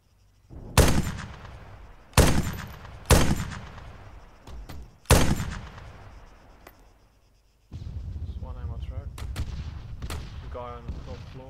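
Loud gunshots in the video game ArmA 3, four sharp close reports spaced over several seconds with decaying tails, followed by a steady rumbling background with brief voice-like bursts.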